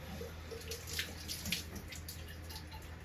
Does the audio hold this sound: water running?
yes